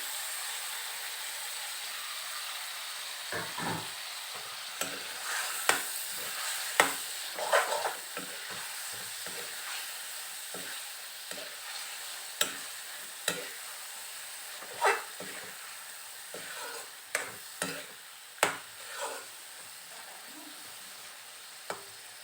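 Chicken meat frying in a pan for a chicken curry with banana flower, a steady sizzle close by with scattered scraping clicks of stirring spread across the whole stretch, no voices.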